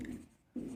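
Pen writing a short definition on paper during a Hindi grammar lesson, two brief scratchy bursts of near, soft scribbling separated by a short pause.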